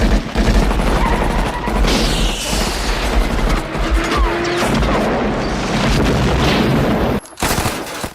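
A Dick Tracy movie shootout roars with loud, dense gunfire, booming shots and crashes layered over a thick score, ending in a brief cut to near silence before the noise resumes.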